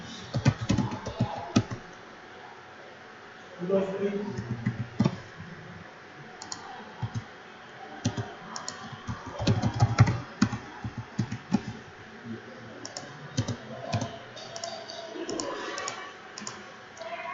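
Rapid clicking from a computer keyboard comes in uneven bursts with short pauses, close and moderately loud, as someone types while entering data, with a few faint murmurs in between.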